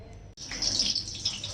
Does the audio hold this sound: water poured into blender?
yes